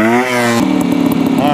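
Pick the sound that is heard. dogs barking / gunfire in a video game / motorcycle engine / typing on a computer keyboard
motorcycle engine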